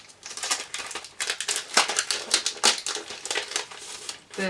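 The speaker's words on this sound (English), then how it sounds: "I'm going to cut out one of these in white for journaling" Scissors cutting white paper for scrapbook journaling, a steady run of crisp snips and crinkles, close and clear, with no voice.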